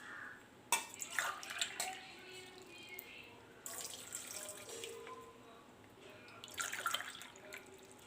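Water pours into a pan for Kerala-style mango pulissery, a soft splashing, trickling stream with a few louder gushes, fairly quiet and close.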